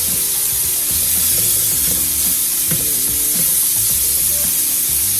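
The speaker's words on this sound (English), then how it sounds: "We don't want to boil our shrimp. We want them just to saute a little." Shrimp sautéing in a hot pan for a one-pan Southwest rice bowl with sausage give off a steady, loud sizzle with faint stirring clatter, heard alone without talk.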